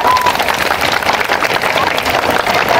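Classroom of high school students applauding a grade 12 classmate during a drowning-prevention session, steady loud clapping filling the whole stretch with crowd noise.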